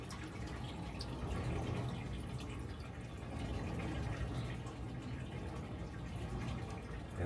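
Water poured onto a dried epoxy deck on a steel trawler, running and trickling in a steady wash that stays fairly faint and continuous throughout.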